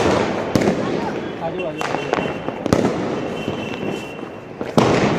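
Diwali firecrackers go off in Amritsar as several sharp, loud bangs and crackles over a few seconds, with people calling out and chatting nearby.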